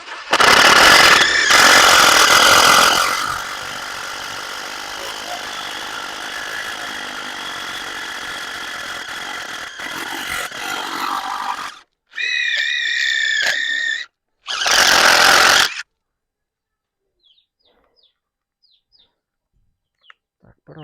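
A DeWalt cordless impact driver set to speed two fires in loud, rapid hammering bursts, first a long rattling run, then two shorter whining bursts separated by silence, ending quiet.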